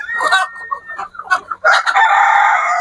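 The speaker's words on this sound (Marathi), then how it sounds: "इकडे जर तुम्ही बघितलं, तुम्हाला अशा कोंबड्या आता संध्याकाळचा थोडा टायमिंग होत आलेला आहे" Free-range country chickens on a naturally built poultry farm toward evening. A rooster crows loudly nearby, mixed with clucking and other fowl calls.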